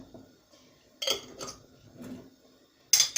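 A few soft, scattered clinks of a spoon against a bowl while stirring ketchup ingredients with sugar, with quiet gaps between the scrapes and a sharper clink at the end.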